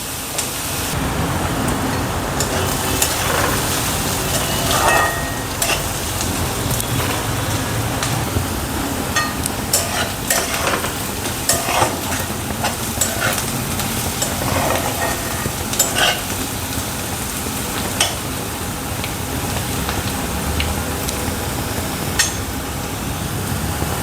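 Onion sizzling steadily in a pan for a tarota leaf vegetable dish, with scraping stir strokes and occasional clinks over a continuous fry, close and fairly loud, no talking.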